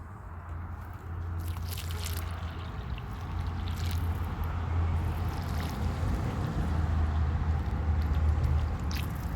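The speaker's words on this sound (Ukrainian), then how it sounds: "проливаю гарненько і чекаю, поки водичка трошки піде" Water poured into a planting hole in a garden flower bed, a steady soft wash of trickling and soaking sound that runs continuously, close by, with no talking.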